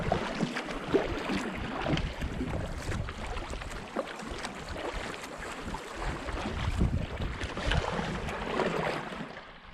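Wind gusting over a lake while a packraft drifts downwind, paddles held up to catch it; a steady broadband rush with water lapping, continuous and fairly close, no talking.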